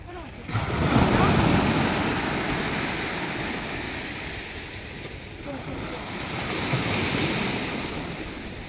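Sea waves wash up on the beach at Digha as the tide rises, a continuous close roar of surf swelling and easing, with wind buffeting the microphone.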